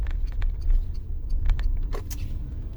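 Car on the move along a road, with a steady low engine and road rumble running throughout, a few faint clicks and jingles from inside the cabin, and no voices.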